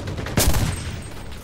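A single loud burst of gunfire in the WWII shooter Enlisted, a sharp close crack followed by a brief echoing tail.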